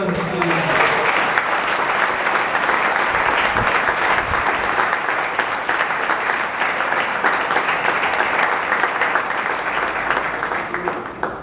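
Church congregation applauding during a worship service, sustained dense clapping that stays loud for the whole stretch, with some voices mixed in beneath it.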